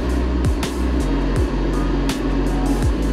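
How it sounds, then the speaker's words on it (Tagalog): A 2024 Jeep Wrangler Sport 4-door on a test drive, its engine giving a steady interior hum with faint recurring thumps and swishes from the road. "Susubukan natin tong Jeep Wrangler Sport na 4-door."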